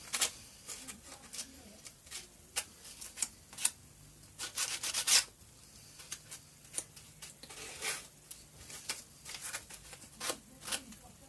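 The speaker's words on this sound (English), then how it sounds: "let's get that last edge sanded down" Hand sanding along the last edge of a handmade trophy: a series of short, close, rasping strokes in an irregular rhythm, with quiet gaps between bursts and no talking.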